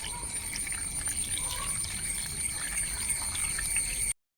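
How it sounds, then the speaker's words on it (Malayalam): Water is poured into a pot of Kerala avial, a traditional mixed vegetable curry, making a soft continuous trickle and splash close by over a faint steady background hum. "അതിലേക്ക് ആവശ്യത്തിനുള്ള വെള്ളം ഒഴിച്ചു കൊടുക്കുക"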